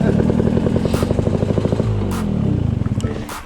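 Electric dirt bike ridden on a dirt trail, its motor giving a steady whine with rhythmic pulsing and clattering from the chassis and terrain, loud and close throughout.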